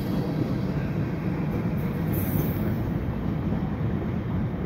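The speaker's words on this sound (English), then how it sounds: "That's the end of the train right there." A CPKC freight train rolls past at Dorval near dusk, a loud, steady rumble and rattle of wagons close by, continuous without a break.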